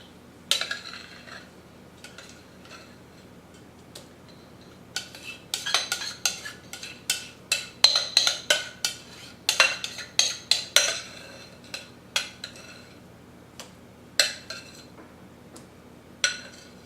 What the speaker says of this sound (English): I use a spatula to help me make a nice even layer across the bottom